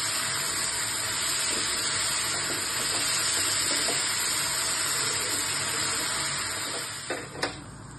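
Chicken cooking on low heat in a pan; a steady soft sizzle and hiss continues throughout, fairly quiet, with a few small clinks near the end.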